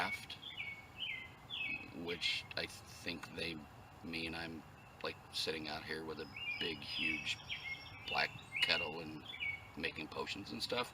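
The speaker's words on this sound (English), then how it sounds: "Pardon the birds." Birds chirp and tweet outdoors near a wildlife area, with bright repeated calls scattered through the scene and a faint insect hum beneath, heard under a person talking steadily throughout.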